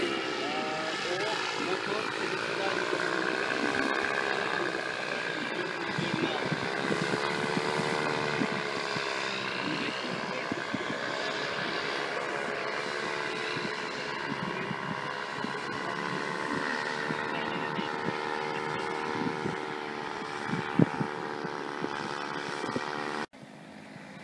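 A German-made R120 paramotor engine running on a summer day at Ağaçlı, a steady droning buzz with shifting pitch throughout, close and loud, with people talking over it.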